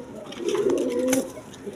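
A single drawn-out coo from a red Raj Gola pigeon, one of a male pair, sounds close and clear, rising and holding briefly before fading.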